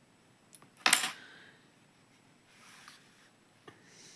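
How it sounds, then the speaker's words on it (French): Scissors snip crochet yarn with a single sharp close cut, followed by faint rustling and small handling clicks in a quiet room. "Je vais également couper le fil."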